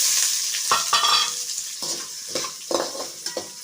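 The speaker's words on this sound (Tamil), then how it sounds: "வெங்காயம் நல்லா பொன்னிறமாக வர அளவுக்கு வணங்கட்டும்" Onions fry in hot oil with bay leaves, cinnamon and cloves for a soya chunk gravy, sizzling steadily and close while a spatula scrapes and stirs in several distinct strokes.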